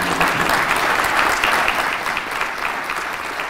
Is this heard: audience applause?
yes